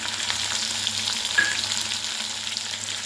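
Turkey berries sizzle in oil with sautéed onion and garlic, giving a steady, close frying hiss for the full few seconds and one small clink partway through.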